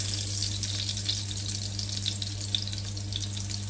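Garlic chili oil sizzles steadily in a pan while cooking arroz caldo, a constant bright frying hiss with small crackles and a low steady hum underneath, no talking.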